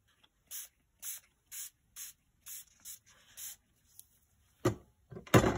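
Mica spray paint misted from a can in short repeated bursts, about seven close hissing sprays in a steady rhythm, followed by a few louder rattling knocks from handling the can.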